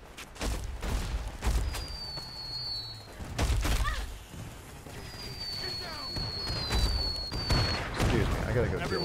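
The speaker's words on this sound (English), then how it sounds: "Oh god, they're launching fireworks." Fireworks launch in the modded video game Fallout New Vegas as repeated booms and bangs with whistling streaks. The bursts are loud and irregular, and someone talks over them now and then.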